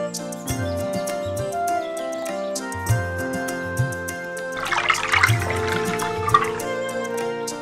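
Water poured into a vessel in an animated folk-tale scene: a burst of splashing, trickling liquid over several seconds, set against a gentle melodic music background with soft plucked notes.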